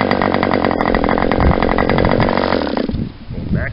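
An Enya 40X model engine fires up and runs at a loud, buzzing, high-pitched whine much like a small chainsaw, holding steady for nearly three seconds before briefly dropping off and picking up again.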